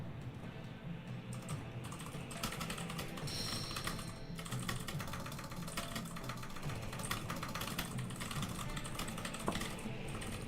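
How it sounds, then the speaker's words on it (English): Steady rapid clacking of a Halo-branded mechanical keyboard during continuous typing, close and unbroken, with no voices over it. "Don't you just love the sound of my keyboard clacking?"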